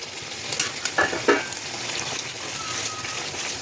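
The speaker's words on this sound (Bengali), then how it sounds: "এবার আলু ফুলকপি যেগুলো ভেজে রেখেছিলাম ওইগুলো দিয়ে ভালো করে কষাবো।" Fried potato and cauliflower pieces are stirred in an oily spice paste in a pan, with a steady sizzle, a few scraping clacks of the spatula early on, and the frying hiss continuing underneath.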